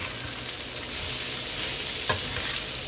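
Pansit bihon rice noodles with celery stirred and tossed in a hot pan, a steady sizzle with scraping stir strokes running throughout, close and fairly loud, plus one sharp clack of the utensil against the pan near the end.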